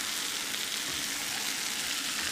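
A large batch of pasta frying in an undersized frying pan gives a steady, dense sizzle and crackle of hot oil, loud and continuous with no talk.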